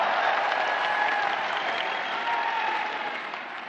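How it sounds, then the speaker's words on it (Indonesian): An audience at an Indonesian presidential candidate declaration for the 2024 election gives loud, sustained applause, a dense wall of clapping from a large crowd that tapers slightly toward the end. "Beri tepuk tangan untuk seluruh jajaran Amanat Indonesia."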